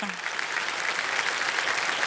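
Audience applause on a Hindi quiz show set, a steady dense wash of clapping that fills the short moment at even loudness, with a brief voice at the very start.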